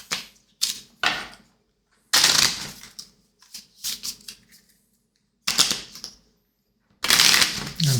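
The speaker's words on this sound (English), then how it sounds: "we're going to give them all a good shuffle" A deck of cards for The Legend of Drizzt board game is shuffled like playing cards, with several quick riffling bursts separated by brief pauses. The bursts are close and crisp, and no one talks.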